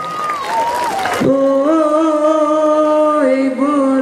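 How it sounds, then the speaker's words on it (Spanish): Crowd applause at a ranch bull-riding event in Naucalpan honoring the Virgin of Guadalupe bursts loudly for about a second, then gives way to sustained brass band music. "Que se escuchen los aplausos para la Virgen de Guadalupe, muchachos."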